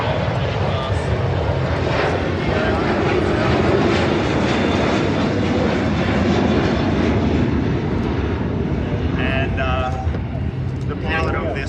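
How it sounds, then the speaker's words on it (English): A Boeing 737 makes a fast, low display pass at an air show, its jet engines roaring loud and steady throughout as a commentator speaks over the public address. "you don't really see a 737 flying this fast, this low, with that sort of roll rate"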